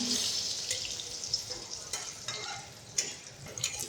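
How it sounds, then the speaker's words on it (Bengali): Eggplant slices frying in hot oil in a home kitchen, a soft continuous sizzle with scattered crackles and light clinks, fairly quiet throughout. "বেগুন ভাজা হয়ে গেছে এখন নামিয়ে নেব"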